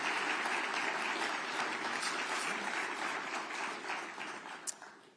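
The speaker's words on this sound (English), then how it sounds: "Let's give the governor and the mayor another round of applause." An audience applauds the governor and the mayor at the close of a public announcement event, sustained broad clapping from a sizable crowd that holds steady and then gradually thins and fades out.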